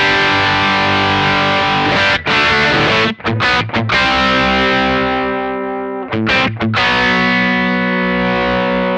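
Distorted electric guitar through a Tech 21 SansAmp PSA 2.0 with the mid-range EQ boosted, playing loud sustained chords with a few abrupt stops and restarts, no voices.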